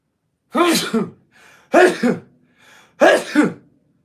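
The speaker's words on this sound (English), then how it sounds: "I have to sneeze." Three sharp, forceful sneezes from one person, close and loud, evenly spaced with short gaps.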